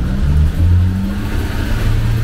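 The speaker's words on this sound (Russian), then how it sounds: "А Игорь поехал на тракторе." A tractor engine pulls away off-road, a loud continuous low rumble with a rising pitch as it gets moving, close by with no talk.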